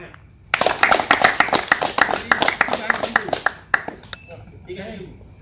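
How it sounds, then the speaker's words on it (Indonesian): A group of people clap their hands together, a burst of sharp, closely spaced claps lasting about three seconds, then a few stray claps and faint voices as it dies away. "Ya, tepuk tangan."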